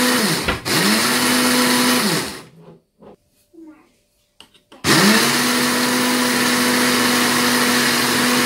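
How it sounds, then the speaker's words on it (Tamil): An electric grinder whirs loudly as it grinds roasted coffee into powder for Sri Lankan coffee, running hard, stopping for a quiet pause, then starting again close up. "நெல்லா கோஃபி பவுடரு கிரைண்டரில் போட்டு நன்றாக பவுடராக அரைத்து"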